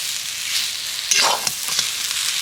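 Cauliflower chop filling with chopped coriander leaves is stirred in a frying pan, with a constant soft sizzle and a brief scraping stir near the middle, followed by a few light taps.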